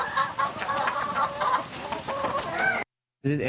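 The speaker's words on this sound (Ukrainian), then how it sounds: "Чоловік вирощує півтори-дві сотні курей." Chickens cluck on a family farm in Georgia, a close, busy flock chattering continuously with a brief break.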